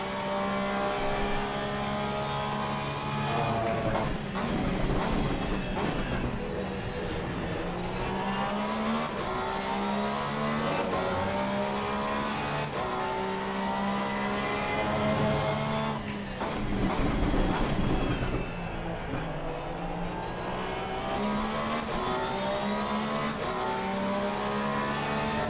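A 2020 Porsche race car engine in Assetto Corsa Competizione at Misano roars continuously and loudly, revving up and down through gear changes, with no talk over it.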